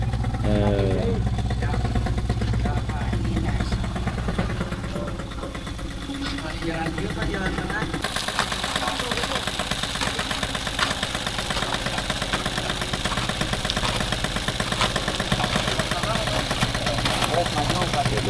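Motorcycle engine idling with a steady mid-pitched throb while it hauls stone material for road compaction in a village, continuous throughout with people talking over it.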